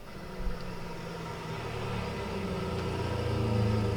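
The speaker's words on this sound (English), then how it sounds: "There's a car out there. It just drove up." A car rumbles up outside in a radio play, its low engine drone faint and steady, slowly growing a little louder with no voices.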